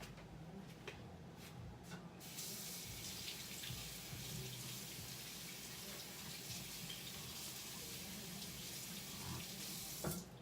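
Tap water runs steadily into a kitchen sink while a pepper is washed during home soul food cooking, a continuous broadband rush with faint clatter, starting abruptly after a quieter opening.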